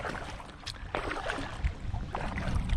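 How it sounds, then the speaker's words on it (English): A kayak paddles into the wind on the Louth Canal, with soft water splashes and paddle strokes over a faint background of gusting wind. "Now the wind's got up, so I'm paddling into the wind"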